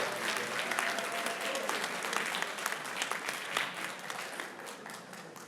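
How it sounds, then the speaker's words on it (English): A school board meeting audience applauds a district's Outstanding Assistant Principal of the Year, with steady, moderately loud clapping that stays sustained throughout. "Please help me welcome with a hearty round of applause St. Lucie Public Schools' Outstanding Assistant Principal of the Year"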